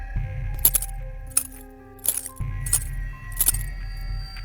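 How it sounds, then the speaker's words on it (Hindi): Small metallic jingles of anklet bells ring out in four or five short bursts on a staircase, bright and close over a low steady hum. "फिर सीढ़ियों से पायल की आवाज आने लगी"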